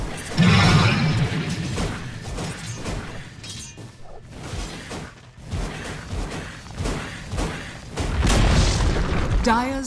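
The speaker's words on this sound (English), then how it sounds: "Dire's top tower has been denied" Dire top tower being destroyed in Dota 2, a deep booming crash with crumbling debris and swishing effects amid busy battle sounds, with voices talking over parts of it.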